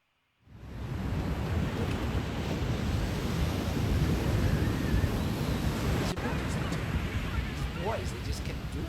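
Ocean surf washes in and drains back out on a beach where boys skimboard, a steady loud roar of breaking water with faint voices mixed underneath.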